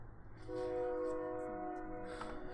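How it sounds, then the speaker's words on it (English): A train passes in the background of an Onward VR match, its sustained horn-like tones held for about two seconds at moderate distance, with faint game noise around it. "And there's a train in the background."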